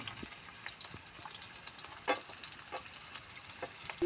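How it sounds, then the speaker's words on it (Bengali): Chopped onions fry in a pan for a green banana mash, making a soft, steady sizzle with faint stirring clicks and an occasional louder scrape. "আমি ভালো করে ভেজে নেবো"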